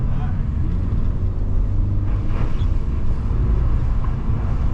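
A car drives a lap on a test track on all-season performance tires, with a steady loud engine drone and road noise from inside the cabin while a person talks over it.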